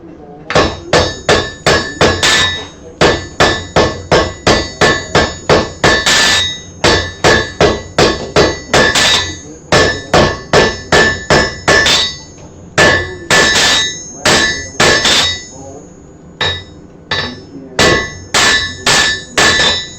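A smith hammers hot metal on an anvil to draw it out, a long run of loud ringing clangs in quick, fairly regular rhythm, broken by a few short pauses between bursts of strikes.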